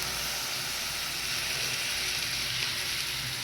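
Banana flower and mixed vegetables fry in a pan with a loud, constant sizzle that holds steady throughout, close by and with no talking.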